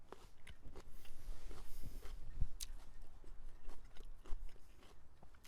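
Crisp, crunchy bites and chewing close to the mic, several sharp crunches scattered over a few seconds with no talking.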